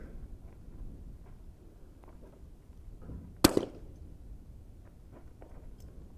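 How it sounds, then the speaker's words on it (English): A single sharp report from a Vudoo Gun Works V-22 rimfire rifle on an outdoor long-range course at 400 yards, loud and close, with a short trailing echo over quiet ambient background. "I'm gonna shoot top left corner."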